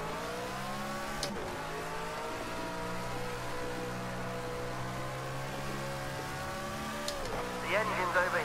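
BMW Z4 race car engine at Dubai International in Project Cars 2, a loud steady engine tone held through several seconds, broken by two sharp gear-change drops, with talk over the top near the end.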